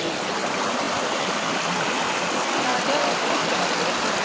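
Strong river water rushing steadily at a village bathing ghat, a dense continuous roar close by with no breaks throughout.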